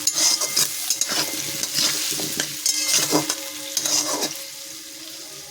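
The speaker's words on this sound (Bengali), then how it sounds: "আলুটা অল্প অল্প ভেজে, বেশি ভাজবো না, অল্প একদম গ্যাস কমিয়ে অল্প অল্প ভাজবো" Potatoes fry gently over a low gas flame in a pan, the soft sizzle broken by repeated scraping strokes of a spoon as they are stirred, close and steady with no talking.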